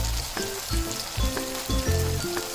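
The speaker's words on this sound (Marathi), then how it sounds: "टमाटर टाकायचं आणि परतून घ्यायचं चांगलं." Tomatoes sautéing with dry spices in hot oil for a dried Bombay duck curry, a close crackling sizzle with a few tonal clinks and scrapes of stirring at a regular pace, no talk.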